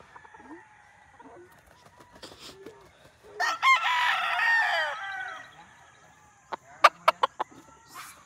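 At a gamefarm, a rooster lets out one full crow near the middle, followed by a quick series of short, sharp calls, with faint farmyard sounds and low background chatter around it.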